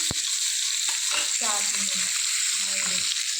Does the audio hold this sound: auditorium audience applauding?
no